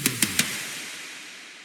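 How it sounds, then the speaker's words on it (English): Three quick descending tom hits roll out as a short fill in an electronic melodic dubstep remix, each a punchy thump followed by a long fading reverb tail, heard alone with no voices. "not to forget about this tom fill here"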